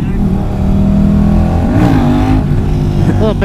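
A motorcycle engine revs hard and unevenly, rising and falling in pitch as the rider tries a wheelie, loud and close with voices talking over it.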